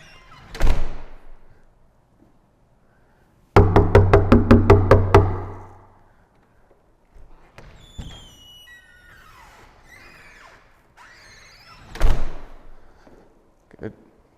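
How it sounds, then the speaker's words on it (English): A door is opened and closed during indoor dog training: a dull thunk, then a rapid rattling clatter of latch and frame, and later another solid thud, all close, with a faint voice in between. "We'll go out this door."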